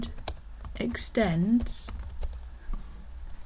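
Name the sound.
typing code on a computer keyboard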